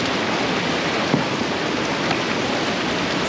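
Rushing floodwater below a dam after a water release, a dense, steady roar of churning water that stays loud and close throughout.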